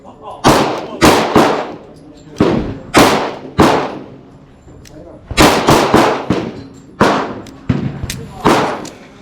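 An HK VP9SK pistol firing cheap Monarch steel-case ammunition at a target about seven yards away: roughly a dozen sharp, loud shots in quick groups with short pauses between them.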